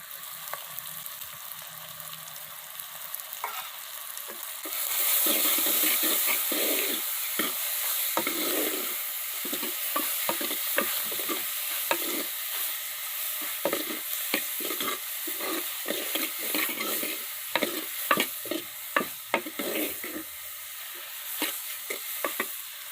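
Steady oily sizzle of prawns frying in a pan for prawn curry, with repeated scraping and clinking of a spoon stirring, close and continuous throughout.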